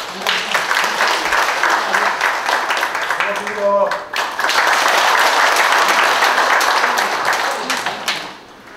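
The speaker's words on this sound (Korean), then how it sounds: "한 분 한 분 소개드리면 큰 박수 부탁드리고요" Dense applause from a crowd at a Uiseong Kim clan gathering in Cheongsong, sustained and loud through most of the stretch, with a brief dip near the middle and a short voice heard over it before it fades at the end.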